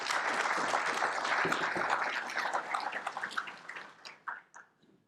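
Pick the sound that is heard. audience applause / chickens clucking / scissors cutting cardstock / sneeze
audience applause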